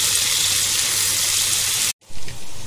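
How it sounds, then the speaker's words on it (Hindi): Ginger, green chili and garlic sizzle steadily in a hot pan, a loud continuous frying hiss that cuts out abruptly near the end before resuming in short bursts. "अदरक मिर्ची लहसुन को अच्छे से जरा भूनेंगे।"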